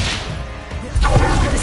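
Depulso spell cast in Hogwarts Legacy: a brief lull, then a sudden forceful whooshing thwack about a second in, with a rushing tail that stays loud to the end.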